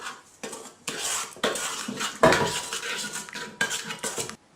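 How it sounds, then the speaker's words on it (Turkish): A spoon stirring yeast, sugar and warm water in a bowl for butter poğaça dough, loud close bursts of metallic clinking and scraping against the bowl in uneven rhythm, with short pauses and no voices. "Elinizle ya da kaşıkla güzelce karıştıralım."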